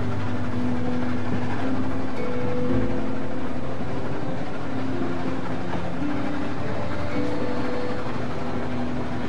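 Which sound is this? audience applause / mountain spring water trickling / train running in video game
train running in video game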